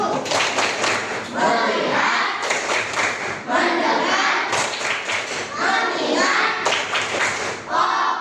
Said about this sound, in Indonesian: Nah, ini tepuk fokus.